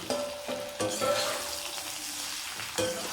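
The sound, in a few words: raw banana pieces frying in pan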